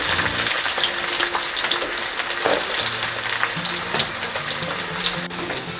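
Onions frying in a pan with squid adobo, a steady close sizzle with stirring scrapes throughout and no voices.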